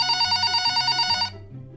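A telephone rings in a bright, pulsing electronic trill for over a second before stopping abruptly, close and loud with a low hum underneath and no talk.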